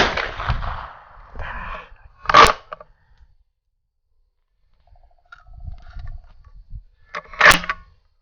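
Two sharp, close rifle shots from a Schmidt Rubin biathlon rifle firing .22 short, spaced several seconds apart outdoors, with brief mechanical handling and murmured talk in between.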